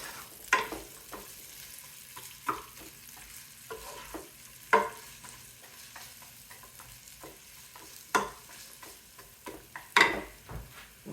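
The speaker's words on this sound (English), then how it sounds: "So we are going to brown our onions first." Onions brown in a frying pan, a quiet steady sizzle broken by occasional loud clacks and scrapes of a utensil stirring them, heard up close.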